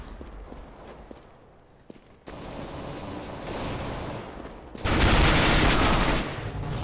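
Counter-Strike: Global Offensive gunfire crackles in bursts: scattered sharp shots at first, then a denser stretch of rapid fire, and finally a loud, sustained volley up close.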